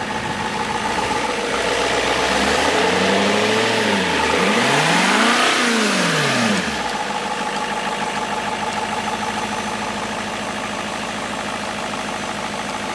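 A VAZ 2107 (Semyorka) that stood unused for two months, engine cold, revving hard for several seconds and rising and falling in pitch, then settling back to a loud, steady idle with no talking.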